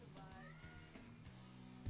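A house cat meows faintly in the background of a streamer's room, a few soft drawn-out cries under low steady room noise, quiet and somewhat distant.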